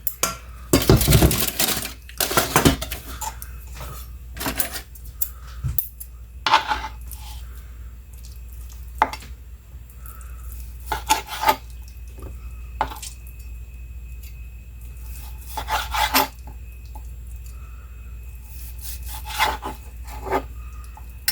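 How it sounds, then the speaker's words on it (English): Knife slicing through cooked meat into strips on a cutting board at home, with scattered scraping and tapping strokes, a few louder bursts and quiet gaps between cuts, heard close with no talking. "we're going to cut it in strips"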